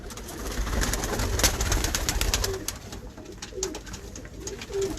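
Pigeons on a rooftop loft, soft low cooing repeated a few times under broader bird chatter and background noise.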